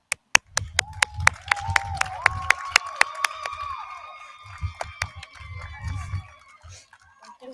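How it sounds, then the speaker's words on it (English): An audience at a school-district teacher-of-the-year celebration claps and cheers, with sharp individual claps that swell into a crowd ovation, whoops and a rising cheer, then taper off. "How about another big round of applause?"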